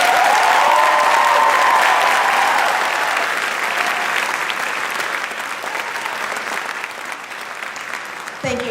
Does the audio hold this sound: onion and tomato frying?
no